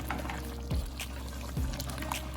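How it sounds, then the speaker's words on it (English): Fresh coconut milk poured into a pot of mutton stew, a soft continuous liquid pour with two brief glugs, close and quiet over a low kitchen rumble. "Then goes 1 cup fresh coconut milk"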